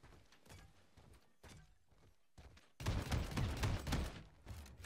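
Bursts of rapid gunfire in the video game Paladins on Xbox Series X crackle loudly, with quieter intermittent shots early on before a sustained, louder volley takes over.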